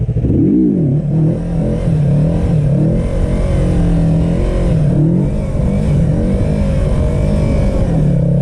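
A motorcycle engine revs loud and close during a wheelie, holding a strong steady drone with rising and falling throttle swells throughout, and no talking.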